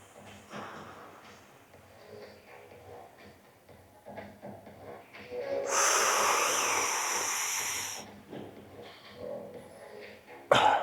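A powerlifter bracing lets out a long, forceful breath held for about two seconds, breathy and loud, framed by softer breathing and small movement noises.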